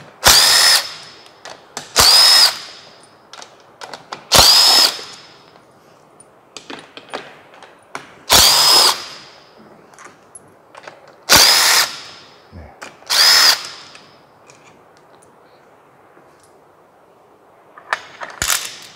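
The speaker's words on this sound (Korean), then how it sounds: "밸브 커버는 편의상 저는 전동 공구를 이용하도록 하겠습니다" A power tool unfastens the valve cover bolts on a Hyundai Santa Fe D-engine diesel, with loud, close whirring bursts of about a second each, six in sequence separated by quiet gaps and faint clinks.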